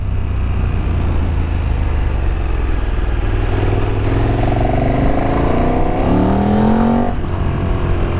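A 2018 KTM Super Duke GT motorcycle accelerates under a light twist of the throttle, its loud engine drone rising steadily in pitch through the gears, heard up close with no speech.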